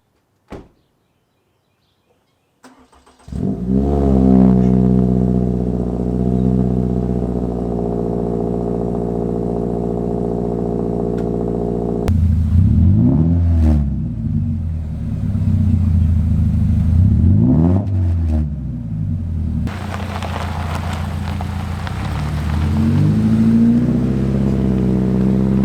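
Subaru Crosstrek Wilderness with a Nameless axle-back exhaust starting up after a door thud, then idling with a deep steady drone broken by several rising and falling revs, loud and close.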